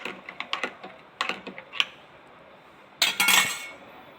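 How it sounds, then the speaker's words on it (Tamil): A spoon stirs apple juice and palm sugar candy into milk, giving a run of quick clinks and taps against the vessel in two bursts, close and fairly crisp with no talking. "நன்றாக கலக்கவும்."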